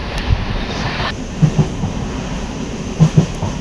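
A train between Shantipur and Fulia rumbles along at night while gathering speed, with a steady low roll broken by a few rhythmic wheel clacks over the rail joints.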